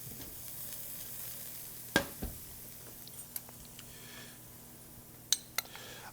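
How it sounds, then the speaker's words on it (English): Rosemary, herbs, stock and Dijon mustard sizzle quietly in a hot skillet, a low steady frying hiss broken by a few sharp clinks and scrapes of a utensil against the pan. "let that sizzle in the pan."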